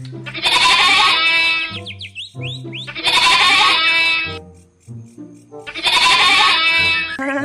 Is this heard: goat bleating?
yes